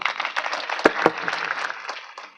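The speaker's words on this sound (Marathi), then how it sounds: "टाळी वाजवा" An audience at a kirtan claps, a dense burst of applause close by with a few sharp louder claps standing out, tapering off toward the end.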